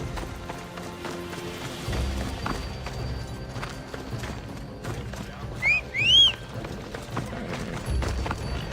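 Rhythmic thudding of horse hooves galloping amid a steady soundscape in the video game Assassin's Creed Odyssey, with a brief whinny-like rising call in the middle.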